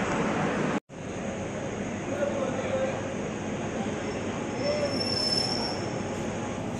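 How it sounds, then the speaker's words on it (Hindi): WAP 7 electric locomotive in Fortune livery, Vadodara-based, coupling onto the Mumbai–New Delhi AC Duronto train: continuous loud rail rumble with faint wheel squeals and a brief drop near the start. "ये हमारी ट्रेन से कपल हो रहा है, तो कपलिंग हो गई है।"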